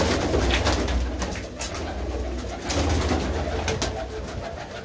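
Pigeons coo repeatedly at a pigeon keeper's loft, their low rolling calls layered and overlapping, fairly near and steady, with some thumps and handling noise and no talk.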